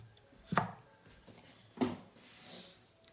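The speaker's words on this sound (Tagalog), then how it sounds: "Do you want to chop the onions?" Onions being chopped on a board, two distinct knife chops about a second apart, close and fairly loud in a quiet kitchen with no talking.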